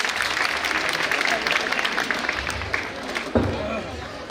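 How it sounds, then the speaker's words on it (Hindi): Audience applause at a school annual function, a broad wash of clapping under a speaking voice, fairly steady with a brief bump near the end. "उनका जोरदार तालियों से स्वागत करें।"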